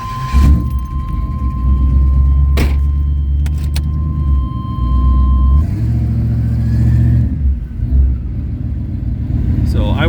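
A 1981 Turbo Trans Am engine idles and rumbles as the car creeps forward, with a steady hum and a few clicks, no one speaking.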